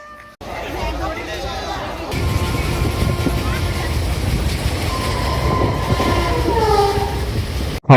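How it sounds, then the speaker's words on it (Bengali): The Shahid Express passenger train runs from Howrah toward Prantik station near Bolpur with a steady loud rumble and rattling carriages, faint squeals rising over it and passengers chattering in the background. "হাওড়া স্টেশন থেকে শহীদ এক্সপ্রেসে ঘন্টা তিনেকের জার্নিতে এসে পৌঁছলাম বোলপুরের কাছে প্রান্তিক স্টেশনে"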